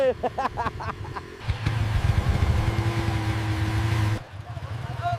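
A new Anwar 15 motorbike being ridden, its engine droning steadily and loud for a few seconds after some talk, then cutting away abruptly near the end.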